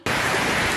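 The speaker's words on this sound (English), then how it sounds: "And this little rain, it never hurt nobody, so get ready for school." Heavy rain falls in a loud, dense, continuous hiss that starts abruptly and holds steady for under a second, close by and with no voices over it.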